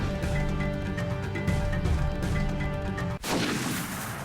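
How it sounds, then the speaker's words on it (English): Gunfire in the video game Kingdom Hearts 1.5 Final Mix, in a jungle scene with gorillas: a single sharp, loud gun blast cuts abruptly through sustained tonal game music near the end, followed by a decaying noisy tail. "More gunfire that I bet Jane never heard"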